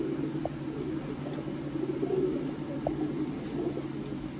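Sialkoti pigeons coo softly and repeatedly at close range, a low throaty murmur over a quiet background hum, with no talking.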